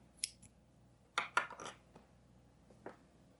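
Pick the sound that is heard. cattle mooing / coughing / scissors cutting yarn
scissors cutting yarn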